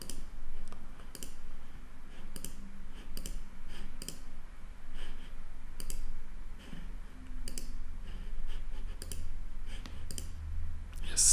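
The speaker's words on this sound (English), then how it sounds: "If you want a feature work to disappear, just click here." Computer mouse clicks on a desktop while editing a WordPress website, sharp isolated ticks recurring irregularly about once or twice a second over a low steady background hum.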